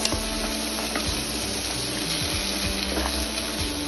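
Potatoes stir-fried in a pan with ginger and garlic give a steady, fairly loud sizzle with faint scraping and stirring knocks throughout.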